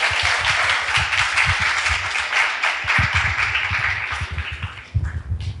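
An audience applauds, a dense crowd of clapping that carries on steadily and tapers slightly toward the end.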